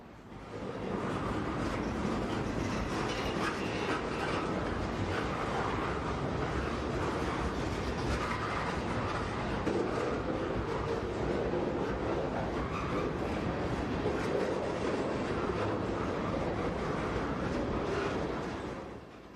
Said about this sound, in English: This train has a consist of locomotives, boxcars, and tank cars.